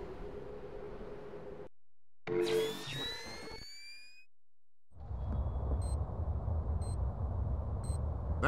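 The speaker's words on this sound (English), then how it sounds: "That's the sound of a wall mine." A proximity wall mine in the stealth game Splinter Cell Double Agent gives off a rising electronic chirp, then a series of short, regular bleeps over a low ambient rumble, with no talk.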